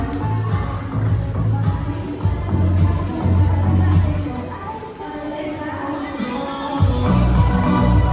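A crowd at a pageant in a hotel venue applauds and cheers for a contestant. The sound is loud and continuous, with murmuring voices mixed in throughout.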